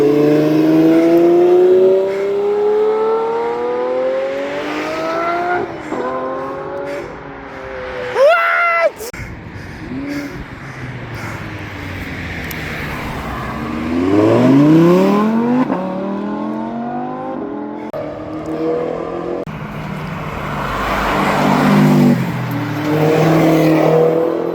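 A car drifts at a Cars and Coffee meet, its engine revving and rising and falling in pitch as it slides past, loud and fairly near, with shouting and excited voices over it.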